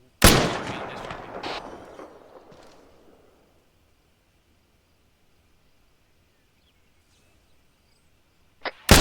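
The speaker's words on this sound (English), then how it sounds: "I heard some staff weapon charging and discharging" A staff weapon fires with a sharp loud discharge that rings out and echoes away over about three seconds, followed by near silence before another sharp burst at the very end.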